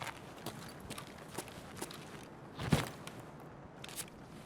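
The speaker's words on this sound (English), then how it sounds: "And once again, we hear some footsteps." Footsteps in the shooter game Escape From Tarkov, a series of soft, evenly spaced thuds with one sharper step midway, faint and fairly close, with no voices over them.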